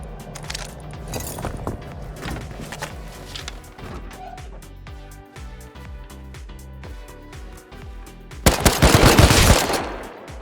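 Gunfire in the survival game Rust, with sustained automatic bursts over a busy background and a loud, dense burst of shots near the end.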